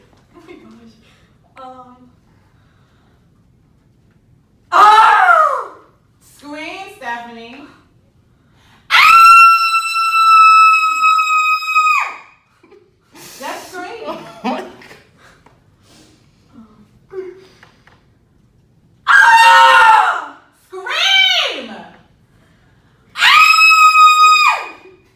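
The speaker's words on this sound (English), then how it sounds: "Just scream." A woman screams in an acting class, several loud sustained screams and shorter cries alternating with quieter spoken coaching between them.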